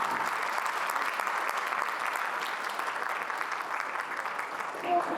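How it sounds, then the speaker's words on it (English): Applause from an audience at a security policy panel discussion, steady even clapping from a seated crowd, with faint voices mixed underneath. "Clapping should always get people to come. Let's try one more time."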